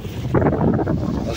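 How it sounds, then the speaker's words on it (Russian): Steady gusting northeasterly wind on the seashore at Taman buffets the microphone with a low rushing roar, slightly rising and falling, no other clear sounds. "Ветер дует между ними."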